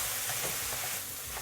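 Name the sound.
stirring chow mein noodles in a wok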